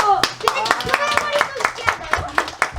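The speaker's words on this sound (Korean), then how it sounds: "박수!" A group claps in quick, rhythmic unison, steady hand claps repeating about four times a second, with voices mixed in.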